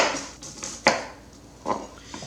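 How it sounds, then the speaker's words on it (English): A kitchen knife slices the corners off an onion on a cutting board, giving a few sharp, close cuts and taps spaced irregularly, with quiet pauses between them. "I like to clean things up a little bit before I start trimming the onion, and that is to cut off these corners here."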